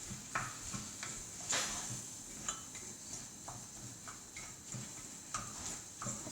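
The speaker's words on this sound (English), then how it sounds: "Give your mince, stirring it, breaking it down so it doesn't look stringy." Minced meat stirred and browned in a pan for chilli, a soft steady sizzle under repeated scraping taps of a utensil against the pan, close and fairly quiet, with no talking.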